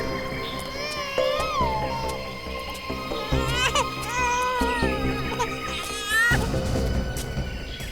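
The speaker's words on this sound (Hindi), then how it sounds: "उस तरफ से बच्चे के रोने की आवाज आ रही है।" An infant cries in rising, wailing bursts, fairly close, with background hum and no talking.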